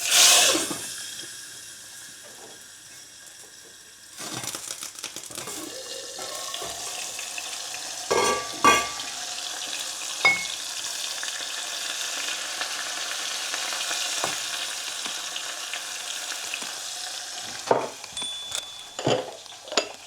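Tomatoes drop into hot oil with hing in a pan for moong dal, setting off a loud sizzle that eases into steady frying hiss, broken by utensil clinks and scrapes against the pan.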